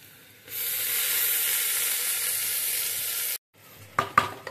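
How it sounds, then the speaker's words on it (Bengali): Rice added to fried onion and corn in a pan, bursting into a loud, steady close sizzle that cuts off abruptly, followed by a few clattering utensil knocks. "তো দেখো পেঁয়াজটা আমার এরকম অনেকটা ফ্রাই হয়ে গেছে। ব্যাস এবারে এর মধ্যে চালটাকে আমি দিয়ে দেবো।"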